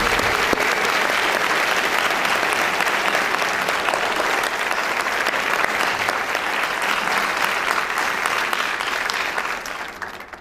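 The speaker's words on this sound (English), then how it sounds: "we can give a big round of applause to Dr. Fred Carter here at Francis Marion University" An audience at a 2010 South Carolina governor's debate at Francis Marion University claps in a loud, sustained round of applause that tapers off at the end.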